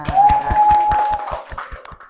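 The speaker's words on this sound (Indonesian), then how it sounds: "kita beri tepuk tangan pada Devia." An audience in an Indonesian university teaching session claps in a steady, even rhythm, about five sharp claps per second, with a thin sustained tone running beneath the first half.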